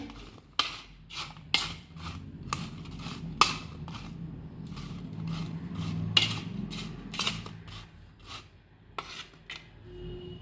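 A spoon scraping and rubbing as turmeric is stirred into homemade pickle in a bowl, with irregular sharp clinks and rasping strokes repeating over a soft background, no speech.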